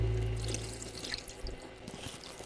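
Milk, six litres of Aavin packet milk, is poured into a container, giving a steady close liquid stream that tapers off into dripping and splashing, with no talk.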